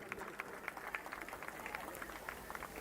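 Faint, distant applause from an audience at a school event in Shirdi, a steady patter of claps heard from far off.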